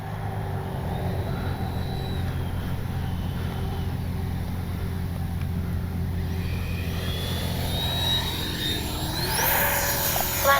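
A Freewing 64mm JL-10/L-15 RC jet makes a touch and go. A steady ducted-fan rush holds throughout, and a rising whine builds toward the end as the throttle comes up for the climb-out.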